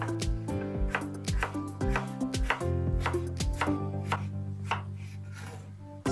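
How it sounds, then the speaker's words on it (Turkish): Repeated knife chops through potato on a cutting board, a quick uneven rhythm of sharp knocks, close and clear with no talking. "En son patatesimi de doğruyorum."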